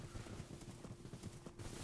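Video-game horse hooves clip-clop in a quick, even galloping rhythm throughout, quiet and heard on their own without talk.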